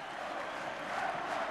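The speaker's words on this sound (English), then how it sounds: "the old stadium was packed to the rafters. A great atmosphere" Crowd noise from a packed old football stadium at an Ayr versus Partick Scottish Cup quarter-final, a dense, steady distant roar with faint cheering and no clear breaks.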